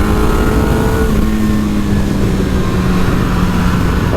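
Suzuki GSX-R 750 Slingshot motorcycle ridden hard on a race track, its engine droning steadily at high revs with pitch shifting through gear changes, loud and close throughout with wind rush.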